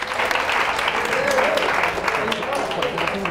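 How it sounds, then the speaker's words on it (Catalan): An audience claps for a school team on a televised quiz show, a dense, even burst of many hands with faint voices murmuring underneath. "Un aplaudiment"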